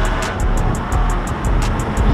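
2013 BMW M3 E92 engine during a ride, a loud, close, continuous low roar with rumbling texture and a rhythmic high-pitched ticking pulsing steadily over it.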